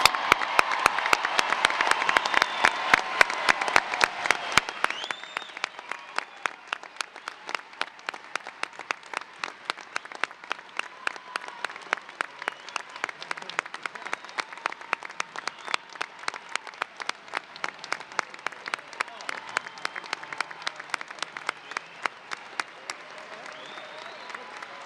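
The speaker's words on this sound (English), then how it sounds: "Please join me in a round of applause for our 2025 Mahomet-Seymour High School graduates." Sustained audience applause for the 2025 Mahomet-Seymour High School graduates at their graduation ceremony, a loud dense burst of clapping at first that settles into steady, rhythmic group clapping continuing throughout.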